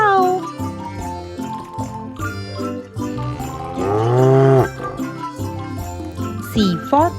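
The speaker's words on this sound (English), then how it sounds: "C for cow." A cow moos in a toddler's alphabet flashcard song, one long drawn-out low call rising over a bouncy musical backing.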